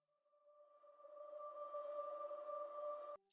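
An Output Arcade atmosphere pad in FL Studio swells in as a soft sustained two-note synth drone with a faint airy wash, holding steadily for a few seconds before stopping suddenly. It is quiet and plays alone.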